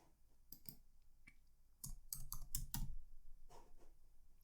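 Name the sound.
typing on a computer keyboard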